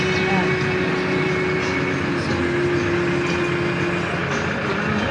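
A vehicle engine is started and runs at a steady, loud drone with a constant hum throughout, alongside a tricycle, with people talking.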